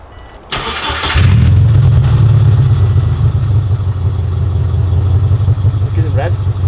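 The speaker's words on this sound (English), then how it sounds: "So this is how Jesus' car sounds right now" A Subaru with stock headers and only a muffler changed starts with a clatter, then settles into a loud, steady, throaty idle that holds up close, with a faint voice briefly over it near the end.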